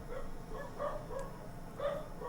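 Dogs bark and yip indoors somewhere in the house, several short, faint barks scattered irregularly through the moment, sounding muffled and set back from the microphone with no talking over them.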